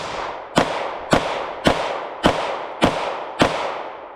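Six evenly spaced gunshots from a Glock 43 compact pistol. Each is a sharp, loud crack followed by a short decaying echo, and the shots come at a steady, deliberate pace with no talking.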